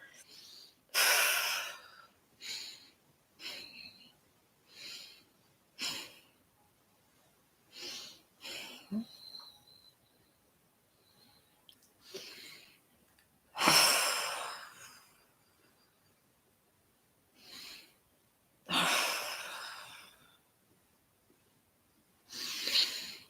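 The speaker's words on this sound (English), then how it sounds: "Lots of nice deep breaths." Deep breathing during a gentle morning yoga class, with a series of audible inhales and exhales, some sharp and some long, spaced irregularly and heard close up without talk.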